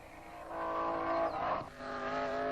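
1957 Formula 1 Maserati race cars speeding past at Reims, a harmonic engine whine swelling as a car passes, dipping briefly, then another engine note following, heard at a moderate distance.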